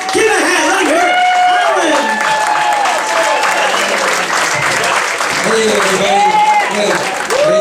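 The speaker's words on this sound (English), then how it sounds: "Come on, give a hand." A live stand-up comedy audience greets a comedian with sustained, dense applause, mixed with whoops and voices calling out across the room.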